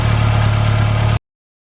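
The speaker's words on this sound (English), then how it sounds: "now we got a little bit of pulsating in the engine" A 1985 VW Scirocco Mk2 idles with its CIS fuel injection and leaking rebuilt fuel distributor, a steady close-up low engine hum with a faint pulsation that cuts off abruptly after about a second.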